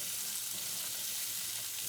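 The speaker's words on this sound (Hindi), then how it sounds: "2 मिनट हमने गाजर और किशमिश को फ्राई कर लिया है।" Carrots and raisins fry in a pan with a steady, soft sizzle that holds evenly throughout, fairly quiet and close, with no voices.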